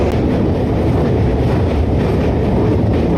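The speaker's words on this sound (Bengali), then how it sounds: "আমাদের ট্রেনটি যাচ্ছে সম্প্রীতি সেতুর ওপর দিয়ে" A Bandel–Naihati local train rumbles steadily across the Sampriti Bridge over the Hooghly River, a loud, continuous roar and rattle of wheels with no pauses.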